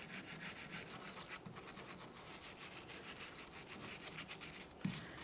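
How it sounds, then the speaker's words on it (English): A wire brush with parts cleaner scrubs a wheel hub on a 2014-2018 Mazda 3, giving fast rhythmic scratchy strokes that are fairly faint and continuous, with a couple of small knocks. "going to use a wire brush and some parts cleaner"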